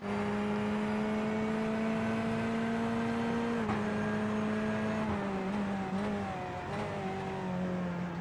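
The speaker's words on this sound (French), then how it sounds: "Et là, Racine qui part" A racing car in the iRacing simulator at the Okayama circuit pulls away with a loud, steady engine drone whose pitch holds, then dips and shifts slightly near the end, with no voices over it.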